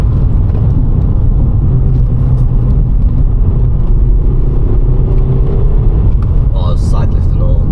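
A Volkswagen Scirocco with a snappy DSG gearbox drives along, its engine a steady close rumble and whir inside the cabin, with voices talking over it throughout.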